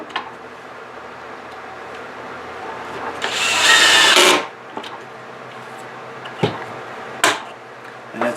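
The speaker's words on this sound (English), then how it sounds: "I have my drill set pretty light." A power drill on a light clutch setting drives a pocket hole screw into pine in one short burst of about a second, with a few sharp knocks and clicks before and after in a quiet room.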